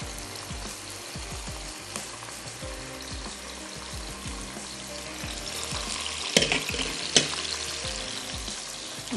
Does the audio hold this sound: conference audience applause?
no